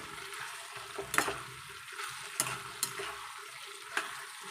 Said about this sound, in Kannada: ಇದನ್ನು ಚೆನ್ನಾಗಿ ಮಿಕ್ಸ್ ಮಾಡಿ